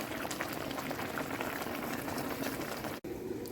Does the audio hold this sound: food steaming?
yes